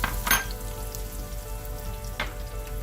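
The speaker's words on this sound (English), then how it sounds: "we're going to saute our onions down really well till it's nice and brown" Chopped onions sauteing in a pan for a South Indian chicken curry, giving a steady close sizzle with two brief louder bursts of stirring or crackle, no voices.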